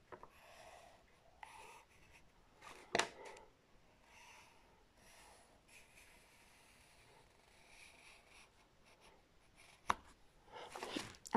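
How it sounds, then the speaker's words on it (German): A pencil sketches an outline on paper with soft, faint scratching strokes in short bursts and pauses, close and quiet, with a few louder handling knocks. "Natürlich müssen wir das erstmal vorzeichnen, damit wir es überhaupt zeichnen können."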